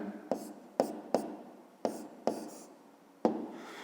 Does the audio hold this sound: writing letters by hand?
yes